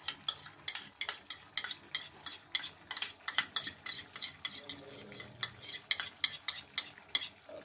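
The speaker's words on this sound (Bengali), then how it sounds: "সস দিয়ে কিছুক্ষণ নাড়াচাড়া করে তারপরে পরিবেশন করে ফেলবো।" Soupy noodles are stirred with sauces in a pan, the utensil scraping in quick, regular strokes roughly three per second, close and clear over a faint sizzle.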